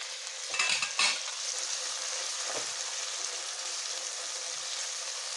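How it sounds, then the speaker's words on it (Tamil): Tomatoes are stirred into ginger and garlic frying in a pan, giving a steady close sizzle with a couple of louder scraping stirs near the start and another brief one midway. "இப்போ வந்து தக்காளி ஆட் பண்ணிக்கலாம்."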